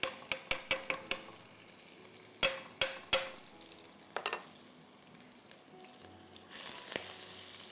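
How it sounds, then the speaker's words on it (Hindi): Garlic fries in about two tablespoons of oil in a pan, with a soft sizzle beneath sharp clicks of a spoon tapping the pan, heard close and fairly quiet, without talk. "गार्लिक को थोड़ा सा हम फ्राई करेंगे और इसमें हम डाल देंगे मैदा।"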